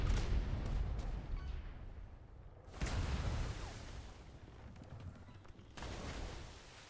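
Broadside of ship cannons fired from the port side of a sailing warship in a naval battle video game, Navy versus Pirate, arriving as two heavy booming volleys with rumbling decay, loud and close amid continuous battle noise.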